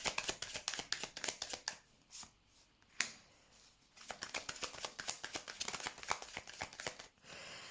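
Tarot cards being shuffled by hand: a rapid, crisp run of riffling flicks with a short pause in the middle, then the quick shuffling resumes. Close and fairly quiet, with no talking.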